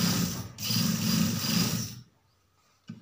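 A sewing machine stitches a side pocket in fast continuous bursts, briefly pausing, then running again before stopping; a short final burst follows after a near-silent gap.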